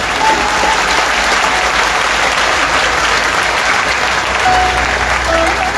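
Audience applause at a live katha in Surrey, British Columbia, a dense, sustained clapping from a large crowd that stays loud and even for several seconds.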